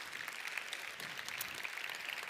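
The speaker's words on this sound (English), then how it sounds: "Go ahead, round of applause for those people." Conference audience at a London tech event applauding, dense steady clapping that is fairly faint and distant, filling the moment without any voices.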